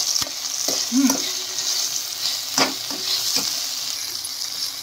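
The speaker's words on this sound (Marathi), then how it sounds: "एक साथ कोबी टाकूया आणि गाजर टाकूया. परत हलव." Shredded cabbage and carrots frying in a pan while being stirred, a steady sizzle broken by scraping knocks of the utensil against the pan, with no talking.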